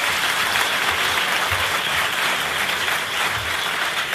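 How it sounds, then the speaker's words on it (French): Sustained applause from a studio audience on a 1981 French TV game show, a steady dense wash of clapping lasting throughout, fairly loud and with no voices over it. "Il a gagné votre estime et vos applaudissements."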